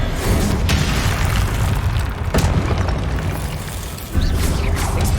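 Confringo blasting spell explosions in Hogwarts Legacy gameplay, a dense, loud rumbling roar of booms with sharp bursts at intervals and a fresh blast near the end.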